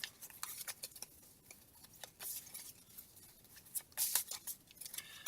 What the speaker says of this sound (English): We'll shuffle these up.